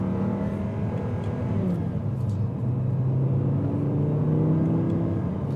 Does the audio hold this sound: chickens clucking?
no